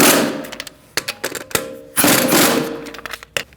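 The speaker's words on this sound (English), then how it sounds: "Now we're going to snug them up. We're going to do that in a star-like pattern using a 17mm socket." Wheel nuts on a 2008-2014 Mercedes-Benz C300 are snugged up with a 17mm socket in a star pattern, giving a close, rapid burst of rattling ratchet clicks and metallic knocks in short spurts.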